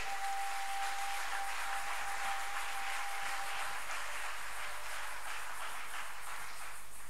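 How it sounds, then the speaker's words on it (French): A church congregation applauding together during a French-language worship service, a steady, dense wash of clapping that fills the space without pause, with a thin sustained tone running through the first few seconds. "Bien-aimés, acclamons pour notre Seigneur."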